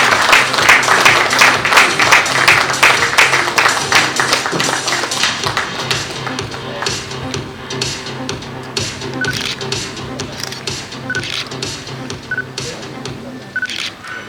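Applause for a hospital receiving a leadership award at a ceremony, loud dense clapping at first that thins out over the following seconds, with bright tapping clicks scattered on top and a low hum beneath.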